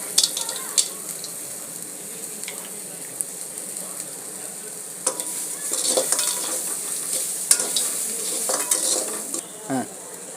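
A handful of cashews fry over a high flame in a pan, giving a steady sizzle broken by scraping stirs and clinks of the spoon against the metal, with no voices.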